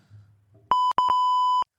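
Censor buzzer on a sports card show broadcast: a loud, pure electronic beep sounding in two sustained bursts with a brief gap between them, preceded by faint low murmuring.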